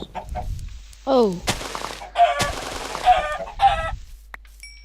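Several short nasal duck quacks from Minecraft, mixed with sharp bang-like bursts; a voice briefly exclaims.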